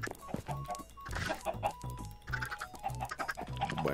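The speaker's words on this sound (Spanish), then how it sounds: "Bueno, esperemos a que crezcan esos pollos." Several chickens in a Minecraft-style video game cluck in quick, uneven bursts, close and clear, with a few sharper squawks mixed in.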